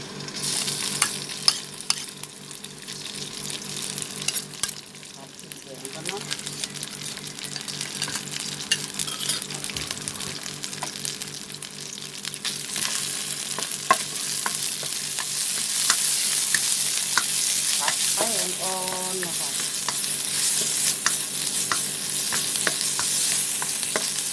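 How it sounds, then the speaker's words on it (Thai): Thai curry paste stir-frying in a little oil, a hissing sizzle that grows louder and brighter over time, with repeated spatula scrapes and clinks against the pan and a brief whining tone in the background. "ใส่น้ำมันลงไปจักน้อยหนึ่งเนาะผัดพริกแกงก่อนค่ะ"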